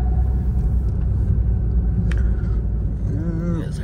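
A car idling and maneuvering into a parking spot near a mall lot, its steady low engine rumble running loud and close throughout, with people talking briefly over it near the end.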